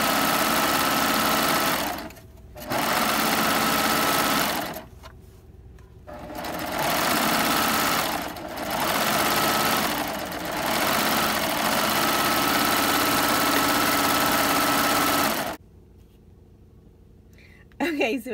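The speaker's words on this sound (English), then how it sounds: "Okay, so now it's time to serge the bottom of our other leg." A serger sewing machine runs in bursts while trimming and overlocking the raw edge of fabric at the bottom of a shorts leg, a loud close whirring hum with short pauses between runs, then stopping near the end.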